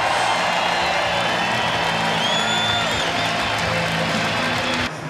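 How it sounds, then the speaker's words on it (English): A huge grandstand crowd at the Indianapolis 500 applauds and cheers the starting lineup, a broad, distant roar of clapping and whoops that holds steady, then cuts off abruptly at the end. "Let's give them a round of applause."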